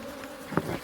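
Honeybees at an open hive during a first inspection hum in a steady close drone, with a slightly louder buzz passing near toward the end.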